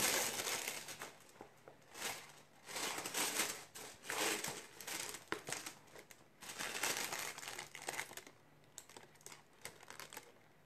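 Wrapping paper crinkles and crumples at close range as a men's gift box is unwrapped indoors, with a run of quiet, irregular rustling bursts and no talking.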